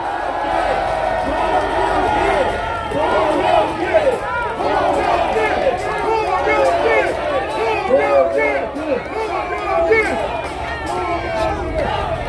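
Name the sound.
crowd cheering and chanting at rally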